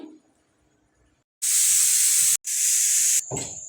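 A pressure cooker whistle releases steam while mutton cooks: two loud, close, hissing blasts of steam separated by a brief gap, ending in a shrill whistling tone.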